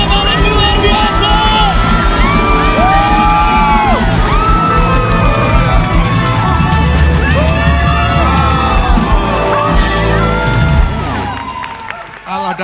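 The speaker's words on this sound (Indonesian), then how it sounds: "Berikan tepuk tangan paling luar biasa" Cheers, whoops and clapping rise from a congregation at a special anniversary worship service of a prayer fellowship, blended with loud singing and music, sustained for about eleven seconds before easing off.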